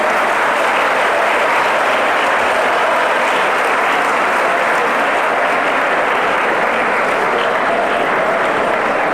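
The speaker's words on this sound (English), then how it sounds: "I don't understand what this clap is for" An audience at a school investiture ceremony breaks into loud, sustained applause, a dense wash of many hands clapping continuously without pause.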